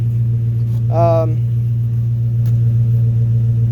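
Deep, steady idle of a 2009 Ford F350 pickup with a new exhaust, throaty exhaust rumble close by; a brief higher tone rises and fades partway through.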